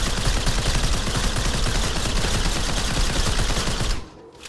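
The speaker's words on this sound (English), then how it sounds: "I found myself spamming the grenade launcher alt fire almost constantly to just stay alive" Dense, continuous weapon fire with grenade launcher blasts in a retro-style first-person shooter video game, loud rapid bursts rolling without pause for about four seconds before cutting off abruptly.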